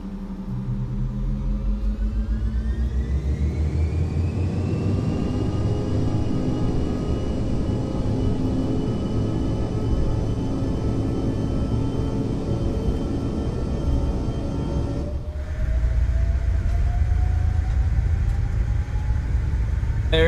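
CRJ jet engines spooling up for the takeoff roll in Microsoft Flight Simulator, a continuous loud roar with rising whine that builds steadily, then shifts tone near the end as power and speed increase.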